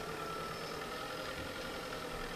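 Tractor engine idling steadily while being parked in Farming Simulator 2013, a constant faint mid-pitched mechanical drone with no voices.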